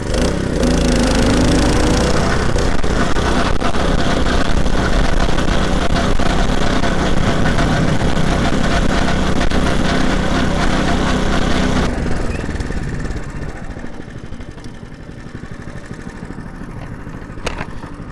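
A walk-behind two-wheel tractor engine runs loud and steady during a top-speed test drive, a continuous mechanical drone that drops noticeably quieter in the last few seconds.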